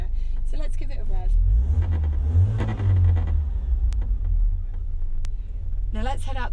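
An 1980s Ford Escort Mk3 engine rumbles steadily at idle, then swells in a rising and falling rev before settling, with a few faint clicks and a brief high chirp.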